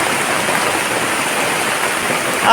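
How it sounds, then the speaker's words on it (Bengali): Heavy rain pours onto a thatched hut, a dense, even hiss of steady downpour filling the whole stretch at close range. "কুড়ে ঘরের মধ্যে যখন বৃষ্টি হয়"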